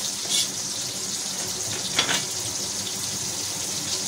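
Green chillies fry in a pan with a steady, close sizzle that runs throughout, marked by a couple of brief louder crackling bursts, with no talking.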